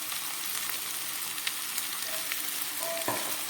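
Mutton sizzles steadily in a pan after Kashmiri chili powder and spiced water go in, a dense, even crackle with a few sharper pops and spits near the end, no voices.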